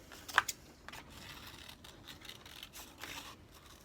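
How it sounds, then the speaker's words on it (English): Scissors snip around a paper circle in a quiet room, with a couple of crisp cuts near the start, then soft intermittent snips and paper rustling. "when you cut a circle, as you close the scissors, you turn the paper with your other hand"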